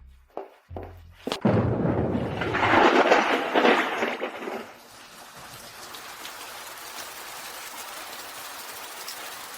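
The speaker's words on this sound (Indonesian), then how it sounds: "Benar-benar hujan." Rain falls steadily outdoors, a hissing wash that swells loud after a few sharp knocks at the start, then settles into a softer, even patter.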